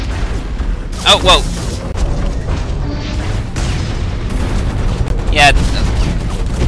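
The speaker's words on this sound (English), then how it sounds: "the battleship actually has turrets" Battleship turrets fire in the PC mech shooter Hawken (beta), with two heavy booming volleys around a second and five seconds in over a constant rumbling battle drone, while a man briefly exclaims.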